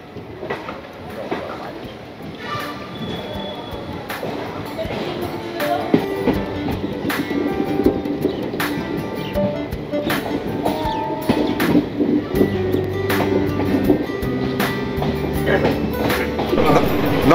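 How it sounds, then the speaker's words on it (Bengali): KanchanKanya Express with LHB coaches running from Naxalbari toward Bagdogra past tea gardens, a steady rolling rumble with intermittent rail clatter and knocks, continuous and fairly close throughout. "7:22 আমাদের ট্রেন ছেড়ে দিয়েছে নকশালবাড়ি থেকে বাগডোগরার উদ্দেশ্যে।"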